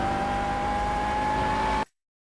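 Racing-game McLaren MP4-12C at full throttle on the Laguna Seca circuit in Project Cars, a steady, loud engine drone that holds its pitch for nearly two seconds and then cuts off abruptly.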